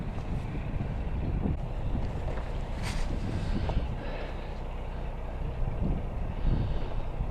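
Strong headwind buffeting a microphone aboard a canal boat, a steady broadband roar of gusting wind with faint low engine rumble beneath, loud and continuous throughout with no voices.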